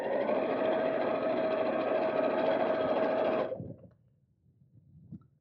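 A sewing machine runs steadily at close range, a continuous whirring hum of stitching for several seconds before stopping, followed by a few faint clicks and taps.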